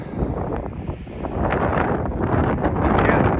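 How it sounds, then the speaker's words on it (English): Strong wind buffets the microphone outdoors at a farm auction in Long Prairie, Minnesota, a constant low roar that swells and gusts throughout. "Sorry about the wind here."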